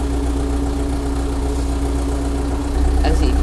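A tractor engine with a hand throttle and four-speed gearbox idles with a steady low rumble and hum, close and loud, its tone shifting slightly near the end as speech mixes in.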